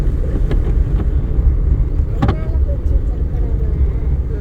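A car engine idles and rumbles in a low, steady drone during a driving lesson gear change to third, close up with wind buffeting and a few faint clicks, while people talk over it.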